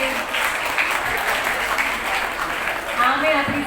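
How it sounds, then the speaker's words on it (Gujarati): Applause from an audience at a Gujarati school prize-distribution ceremony for World Mother Language Day, a steady dense patter of many hands clapping throughout, fairly loud and continuous, with voices mixed in underneath. "તાળીઓ પાડવી જરૂરી તો છે."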